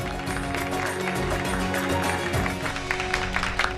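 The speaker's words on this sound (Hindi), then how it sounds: "तो चलिए आई, तालियां हो जाए नीति भाभी के लिए।" An audience on a Hindi TV drama set claps for Neeti Bhabhi, steady, dense applause that stays loud for the whole stretch with some crowd noise mixed in and no voices breaking through.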